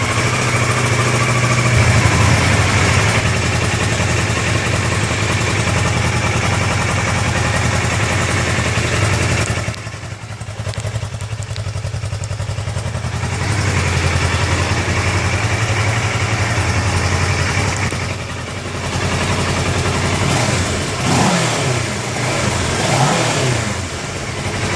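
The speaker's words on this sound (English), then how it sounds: "this is what the stock exhaust sounds like" Stock exhaust of a 2013 Kawasaki Ninja 650 motorcycle, loud and close, idling with a steady low drone and revved repeatedly, the engine note rising and dropping between throttle blips.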